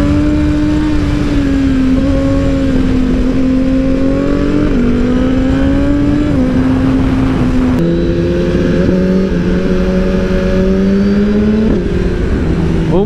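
Motorcycles, GSX-R sport bikes among them, rev and accelerate on a race circuit in Dakar, a loud, steady engine drone with rising and falling pitch as gears change, sustained close by throughout.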